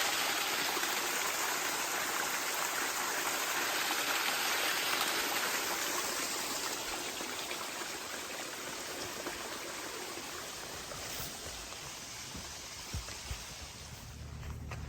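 Dix Creek on the Appalachian Trail flows steadily with a broad, even rush of water, continuous and close, with no voices.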